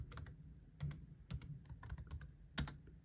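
Command typed on a computer keyboard, a run of crisp, close keystrokes in irregular bursts over a faint low background hum, with no talking.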